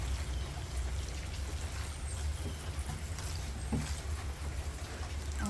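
Water poured from a container into plastic planting trays for rooting sweet potato slips, a steady close trickle and splash running continuously without talk.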